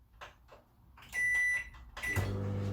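A kitchen microwave oven, used while cooking a quick honey soy pork dinner, gives a few bright electronic beeps and then starts up into a steady low running hum that continues to the end.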